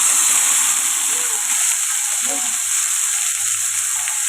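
Onion, cashew and tomato paste fries in a pan with a steady, loud sizzle throughout, a few soft stirring scrapes underneath and no voices.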